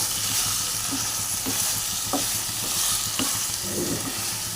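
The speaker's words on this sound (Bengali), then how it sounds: "এবার চিংড়ি মাছটা এর মধ্যে দিয়ে দিলাম, দিয়ে ভালো করে নাড়িয়ে চাড়িয়ে নেব।" Prawns tossed into a hot pan with a braised spice base and stirred, giving a steady loud sizzle with scattered spatula scrapes and knocks throughout, no voices.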